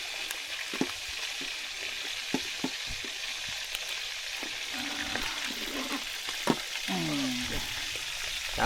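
Food fries in a pan with a steady, soft sizzle, punctuated by scattered light pops and clicks, and a brief faint voice joins near the end.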